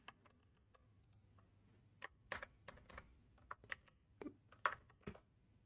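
Typing on a computer keyboard at a desk, with sparse, irregular clicks and a few louder key strikes clustered in short bursts over a quiet background hum; no voices.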